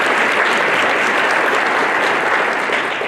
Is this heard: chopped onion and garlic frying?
no